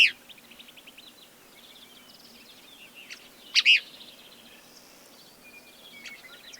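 Cassin's kingbird on a Montana breeding territory, giving a series of sharp, scratchy chirps and calls at moderate distance, with a louder burst midway, alone over faint insect and ambient hum.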